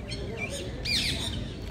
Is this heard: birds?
yes